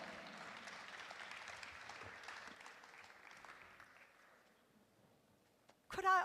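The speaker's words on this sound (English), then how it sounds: "Please, ladies and gentlemen, give her a warm round of applause." Audience at a culture, arts and sustainable development panel applauding a speaker, soft, fairly distant clapping that fades over several seconds before a voice speaks close to the microphone.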